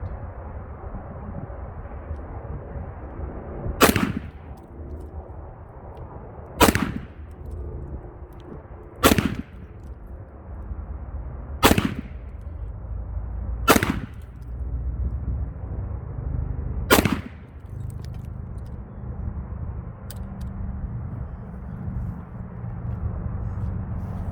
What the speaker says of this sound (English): We're shooting at that bottom left